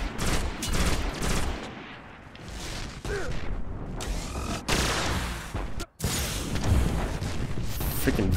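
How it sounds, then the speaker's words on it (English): Rapid bursts of gunfire from Destiny on Mars fill the stretch, dense and loud with sharp breaks and booming impacts, a brief dropout near the end. "where the heck are those shots coming from?"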